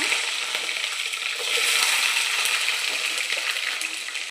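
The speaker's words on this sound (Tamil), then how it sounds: "பேனில் நல்ல தாளிப்புக்கு தேவையான கடுகு, வெந்தயம், சின்ன வெங்காயம் சேர்த்துக்கோங்க" Mustard seeds, fenugreek and shallots temper in hot oil in a pan, a continuous bright sizzle with fine popping crackles, close and steady.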